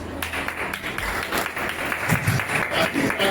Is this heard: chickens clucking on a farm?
no